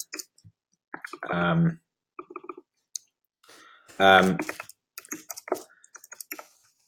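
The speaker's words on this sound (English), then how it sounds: "I don't know what I'm typing." Rapid clicking of typing on a computer keyboard, in short irregular bursts between stretches of nearby speech.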